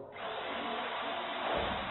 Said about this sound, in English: I got the drill.